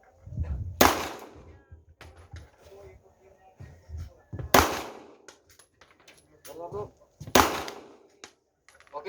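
Gunshots crack out three times during a firearms drill, each a sharp, loud report with a short ringing tail, separated by pauses filled with faint clatter and shouted commands.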